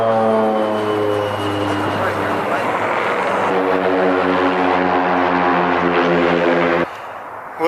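An airplane flying low near an airport beside a freeway, its engine a loud, steady droning hum that holds close for several seconds before cutting off abruptly.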